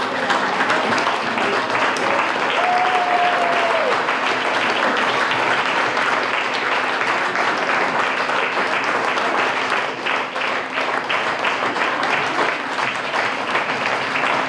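Sustained audience applause for educators at a teacher appreciation event in Garland City, a dense steady wash of many hands clapping close and loud throughout, with a brief whistle-like tone early on.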